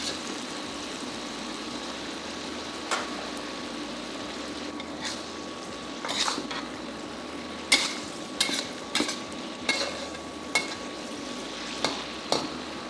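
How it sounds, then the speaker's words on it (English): Salmon stir fry tossed in a sizzling pan, with a steady frying hiss throughout and a series of sharp clinks and scrapes from stirring in the second half. "Give this a toss and bring the sauce to a boil."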